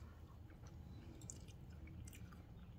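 Someone chews a freshly tossed salad dressed with salt and pepper, soft moist crunching and squishing bites close to the mouth, steady over a few seconds with no talk.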